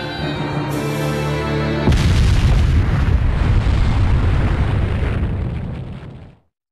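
A huge explosion in the ninja action game Naruto Shippuden: Ultimate Ninja Impact erupts after a sustained rising tone, then a long, loud, roaring blast that rumbles for several seconds before cutting off abruptly.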